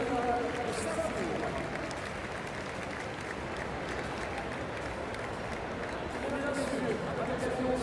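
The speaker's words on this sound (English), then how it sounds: "On entend quelques applaudissements qui fusent." Steady applause from spectators at the Longines Grand Prix Lyon show-jumping event, a dense, continuous patter of clapping that holds at an even level for the whole stretch, with a faint murmur of crowd noise mixed in.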